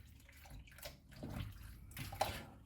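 Water draining off cooked octopus, soft splashing and trickling with a few drips, close but fairly quiet, no voices.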